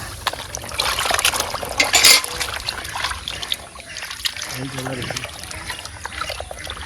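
Water trickles and splashes as cut pieces of large catfish are rinsed, a close running pour and dribble continuing under people talking.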